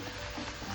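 Jackfruit chips frying in coconut oil give off a dense, continuous crackling sizzle, close and steady throughout, with no breaks or voices.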